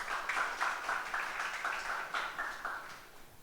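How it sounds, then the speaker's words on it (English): An audience at a corporate International Women's Day session applauds an honoree, the clapping falling into a fairly even rhythmic beat at moderate volume throughout. "We can have a round of applause for Manish."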